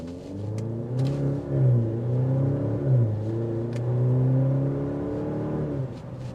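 A 2025 Maserati Grecale Modena SUV engine revs and accelerates with a deep, droning exhaust note, pitch rising and falling through gear changes, heard from inside the cabin.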